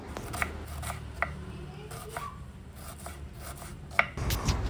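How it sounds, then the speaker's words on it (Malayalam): A knife cuts onions on a board for snacks, producing faint, irregular taps and clicks spaced through a quiet kitchen, with a slightly louder rustle at the end. "ഞാനിനി സ്നാക്സിലേക്ക് വേണ്ടിയിട്ടുള്ള സവാളയും കാര്യങ്ങളും ഒന്ന് കട്ട് ചെയ്തെടുക്കുകയാണ്"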